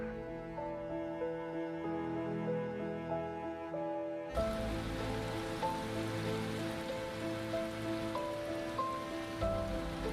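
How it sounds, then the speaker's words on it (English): Steady rain patter in a racing video game at St. Petersburg fills the background under a looping synthesized music track, getting denser partway through. "No sign of this rain stopping."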